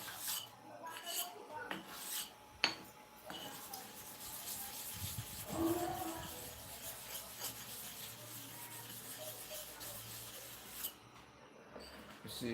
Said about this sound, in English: So let us sharpen for the bottom clipper blade.